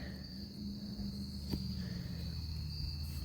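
Crickets in dry undergrowth beside receding water keep up a steady high-pitched chirring drone, continuous and fairly faint, over a low background hum and a single brief knock.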